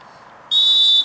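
One sharp, steady referee's whistle blast sounds loud and close for about half a second, over faint background noise, during a playoff football match.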